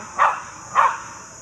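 Two short dog barks, about half a second apart, ring out at moderate distance in an indoor home setting with no talk over them.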